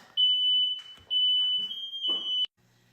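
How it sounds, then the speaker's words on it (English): A kitchen smoke detector set off during cooking shrieks in loud, piercing electronic bursts, two long sustained tones broken by a brief gap before cutting off abruptly. "Sometimes my smoke detectors are too sensitive"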